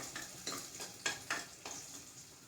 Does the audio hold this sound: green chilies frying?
yes